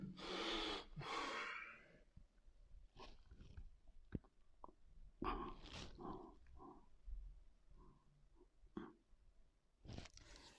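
Deep breathing during a yoga forward-fold class: a long, loud breath at the start, then softer intermittent inhales and exhales, close to the microphone in a quiet room.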